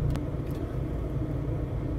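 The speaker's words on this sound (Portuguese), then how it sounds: "Esperar para estacionar aqui, ó, vai sair esse carro" A car pulling out of a parking space on a city street in Natal, Brazil, its engine a steady low rumble at moderate distance with faint traffic noise around it.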